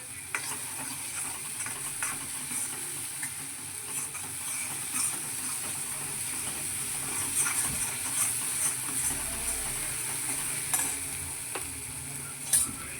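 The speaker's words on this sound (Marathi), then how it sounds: "असा तेल सुटेपर्यंत छान मसाला परतून घ्यायचा" Spice paste stir-fried in oil for a spicy chicken rassa curry, with a continuous close sizzle and hiss and the repeated scrape and stir of a spoon through the masala.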